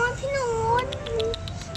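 A month-old rescued stray kitten gives a few thin, high mews, faint and close, while people talk softly alongside.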